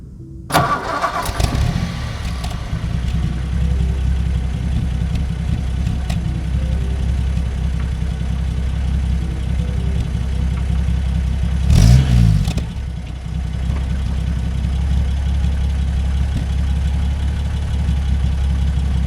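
A 1961 Vauxhall Cresta PA engine cranks and catches with a sharp burst, then settles into a steady, loud rumble while driving, with a brief louder surge partway through and no talking.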